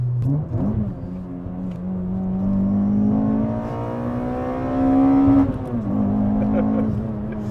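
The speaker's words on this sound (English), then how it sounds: "that intake sounds mad" A 2004 Toyota Corolla T Sport being driven at moderate speed, its intake note rising and droning steadily as the engine pulls, heard from inside the cabin with occasional voices under it.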